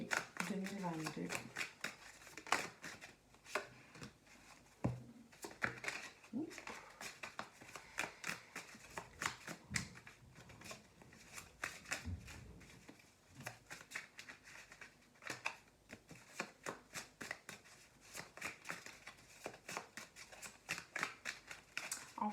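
Oracle cards are shuffled over and over for a morning card reading, giving a steady run of crisp riffling and flicking snaps close to the listener, with occasional soft handling noises between bursts.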